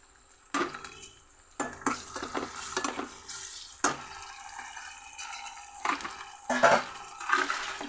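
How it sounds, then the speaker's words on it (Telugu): Tomato pieces fry in a pan for a dried fish and brinjal curry, sizzling and hissing in bursts as a spoon stirs and scrapes against the metal. Sharp utensil clatter comes through, close and moderately loud. "ఇప్పుడు టమాటో ముక్కలు వేసేస్తున్నాను."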